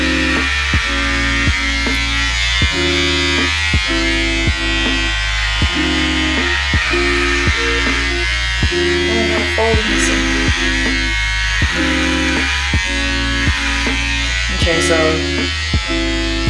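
Electric clippers shaving a head, a loud close buzzing hum that runs in repeated strokes with short breaks between passes. A voice speaks briefly over the buzz.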